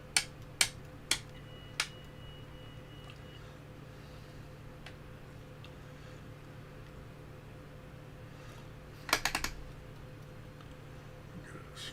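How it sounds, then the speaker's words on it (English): Cockpit switches in a flight simulator video game click in a few sharp, separate taps, a quick cluster of several clicks following later, all faint over a steady low hum. "Let's click on the switches."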